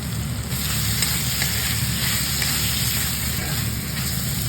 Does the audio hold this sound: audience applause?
no